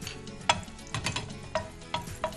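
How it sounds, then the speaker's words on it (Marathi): Whole cumin seeds crackling in hot oil in a pan; a steady frying sizzle broken by sharp, irregular pops and clicks, close and fairly quiet, with no voices. "थोडं जिरा मस्त तडकलं की त्याच्यामध्ये आपण कांदा ऍड करून घेऊयात."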